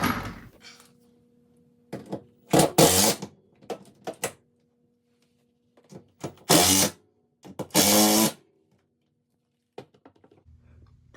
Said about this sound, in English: we're gonna secure all 3 bolts